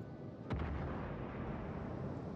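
A single heavy battleship gun salvo booms sharply from a World of Warships match, its deep, rumbling roar then rolling on and filling the rest of the moment with low, sustained thunder.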